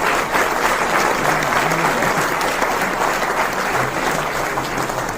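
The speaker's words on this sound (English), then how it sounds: "Let's give Dr. Nathan Newman a round of applause." An audience at a Jeunesse Global presentation claps loudly and steadily for a speaker, a dense, continuous wash of applause lasting the whole stretch with faint voices mixed in.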